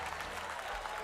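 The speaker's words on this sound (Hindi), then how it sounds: "मैं जानती हूँ कि तमाम लोग तालियां बजा रहे हैं।" A church audience claps in a dense, continuous burst during a lively sermon, heard for a brief moment.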